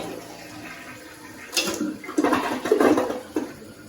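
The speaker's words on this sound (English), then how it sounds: "We'll give her a flush" A Kohler toilet flushes after repair of its fill valve and flush valve. The flush starts with a clack and builds into a rushing swirl of water that is close, moderately loud and heard alone.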